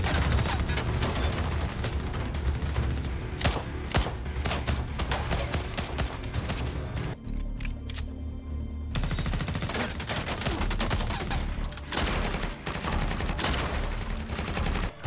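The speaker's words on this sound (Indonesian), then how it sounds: "Kali ini Ray terpaksa harus terkena beberapa tembakan dari Bishop" Dense, relentless gunfire with overlapping bursts and rapid shots in a gangster film battle scene, under a loud, busy soundtrack, briefly thinning midway before the barrage resumes.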